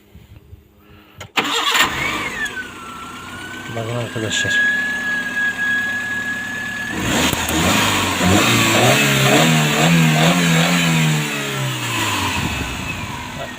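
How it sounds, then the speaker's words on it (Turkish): A car engine starts with a cranking catch, then a steady high idle gives way to several revs rising and falling, close and loud, while someone talks over it. "Bakın hatta şöyle arabayı bir çalıştırayım."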